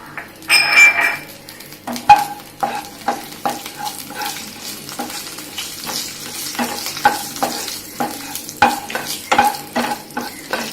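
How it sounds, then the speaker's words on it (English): Whole spices and ajwain seeds sauté in hot oil in a pan, a soft sizzle under repeated sharp clinks and scrapes of a spoon stirring against metal at an irregular rhythm, close and without talk. "Saute it for a few seconds"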